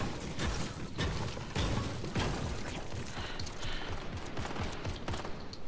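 Gunfire in the Fortnite battle royale video game, a dense continuous rattle of rapid shots with mechanical clatter, loud and sustained throughout with no talk.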